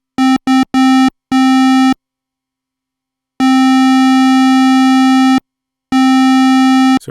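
A Moog Matriarch's second oscillator puts out a square modulation wave as a steady, buzzy tone, switched on and off in short bursts and then longer sustained stretches separated by silence, loud and upfront.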